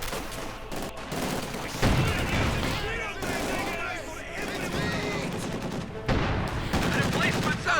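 Mortar blasts and rattling gunfire from the World War II strategy game Company of Heroes 2, a 2v2 match, crackle in repeated bursts with booming hits beneath a commentator talking over the action.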